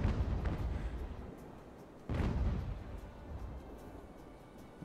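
Ship cannon volleys in the naval game Ultimate Admiral: Age of Sail, two deep booming blasts about two seconds apart, each followed by a long rumbling decay, heavy and fairly close with no voices.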